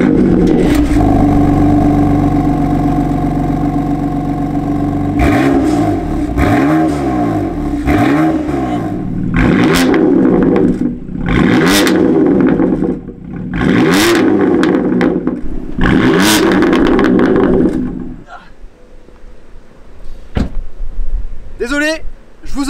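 A BMW M4 GTS fitted with a titanium exhaust revs hard, its engine rising and falling through repeated sharp blips and sustained high revs, loud and close, before settling to a quieter idle near the end.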